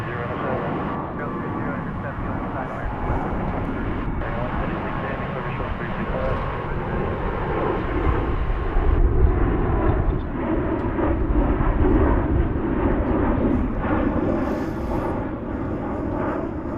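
Boeing 737-800 jet departing DFW Airport, a loud broad roar that swells around the middle and holds steady, with talk over it.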